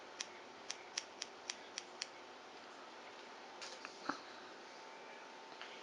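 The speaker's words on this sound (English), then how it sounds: "The shear's gonna do what it needs to do." Hair shears snip through a wig in a quick run of seven crisp, close cuts, followed by a few scattered softer snips and faint handling noise in a quiet room.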